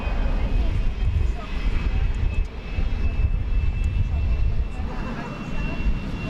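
An American Airlines jet rolls for takeoff at night at DFW Airport, a steady broad engine roar holding throughout at moderate distance, with a faint thin whine above it and radio voices talking over the noise.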